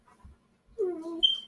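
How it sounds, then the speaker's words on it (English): A pet dog chasing its tail gives a short, high, quavering whine, faint and close, with a thin squeaky note at the end amid near-silence. "if you hear that whining, that is my dog chasing his tail"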